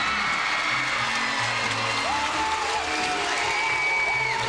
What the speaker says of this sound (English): you hear the roar in the background from the partisan Penn State crowd here